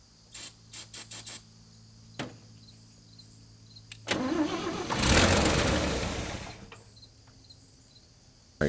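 A 1956 International S132 pickup's engine cranks over after a few sharp clicks and knocks, grinding loudly for a couple of seconds with rising roar before cutting off, no one speaking.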